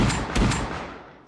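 Shotgun firing in the console version of the Rust video game, two loud, close blasts in quick succession, each with a booming punch and a reverberant tail that fades away.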